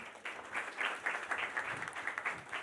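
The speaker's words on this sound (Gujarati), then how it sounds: "આવો જોરદાર તાળીઓ થકી આપણે માનનીય મંત્રીશ્રીના વક્તવ્યને વધાવીએ" A seminar audience on farm processing and farmer prosperity applauds after a minister's speech: steady, fairly faint clapping from many hands that runs for nearly three seconds without voices over it.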